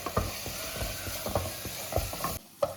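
Garam masala with chilli powder and tomato is stirred and sautéed in a pan for a plain hotel-style salna. A spoon scrapes and taps in a steady rhythm over a quiet, soft sizzle, ending with a sharp knock.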